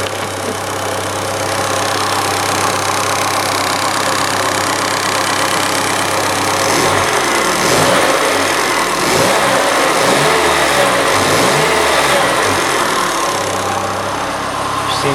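A Fiat Cinquecento engine running steadily after an engine swap, a loud, continuous mid-pitched hum close by, with a gentle rise and fall in revs partway through.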